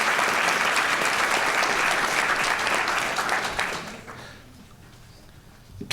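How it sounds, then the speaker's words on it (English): Applause from a school board meeting audience honoring a student choir singer, loud sustained clapping from a crowd that holds steady for several seconds, then thins out and fades to quiet. "Let's give her a round of applause."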